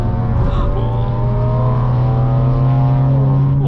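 A loud, close, buzzy drone from an Audi's exhaust, with a raspy fart-can tone, holds steady and unbroken throughout.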